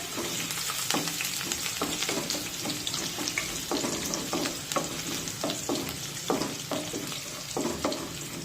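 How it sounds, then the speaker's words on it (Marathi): Crushed garlic sautés in a pan for a vegetable dish, a continuous close sizzle broken by repeated scraping stirs from a spatula at an uneven rhythm. "आता लसूण थोडासा परतून घेऊया।"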